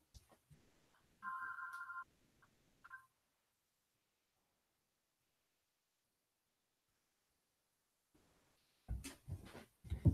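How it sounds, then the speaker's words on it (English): A telephone rings with one clear electronic trill and a brief second burst, followed by a long silence and then some nearby clattering and handling noises. "I have the phone ringing."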